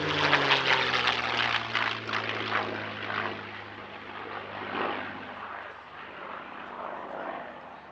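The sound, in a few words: P-51 Mustang warbird Jersey Jerk flying at air show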